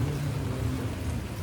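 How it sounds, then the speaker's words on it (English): Rain falls outside at a jetski racing event, a steady, moderately loud wash of patter with a low rumble underneath, continuous and without speech. "It's raining outside."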